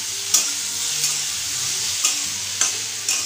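Papaya curry sizzling steadily in a pan, a constant frying hiss with periodic soft scrapes of stirring every second or so.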